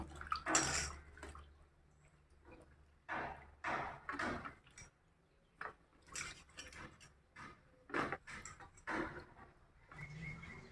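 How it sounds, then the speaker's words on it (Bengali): Potatoes and eggplant being washed in water, a series of close, quiet splashes and sloshing bursts separated by short pauses. "আলু বেগুনটা আমি এখন ভালো করে ধুয়ে নেব।"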